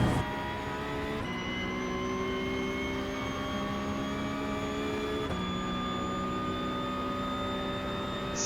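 A Porsche 911 Cup (992.2) race car at Le Mans in iRacing holds 4th gear through a turn. The engine drones loudly and steadily, with brief pitch drops as the throttle eases, and no talk.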